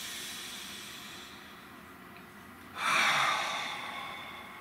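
A single deep breath, a slow hiss of inhalation swelling loudly after a quiet pause, close to the listener and then fading out.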